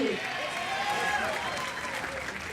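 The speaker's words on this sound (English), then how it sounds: "Giving something for this hometown crowd to cheer about." A hometown crowd cheers and applauds steadily at a recurve archery team final in Medellin, a broad sustained roar filling the whole stretch with a commentator talking over it.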